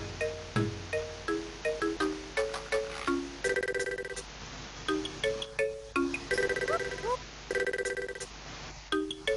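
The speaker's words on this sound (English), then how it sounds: "There's some quite nice music here, which hopefully you can hear if the sound isn't screwed up." Background music from the video game Final Fantasy VI Advance plays alone: a bright, bell-like electronic melody of short repeated notes and phrases in a steady rhythm at moderate volume.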